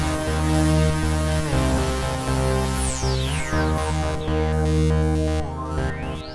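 Free Berlin school synthesizer plugin with an 80s character playing a dense, loud sequenced synth pattern with sweeping filtered tones rising and falling over sustained layered notes, continuous and busy with no voices.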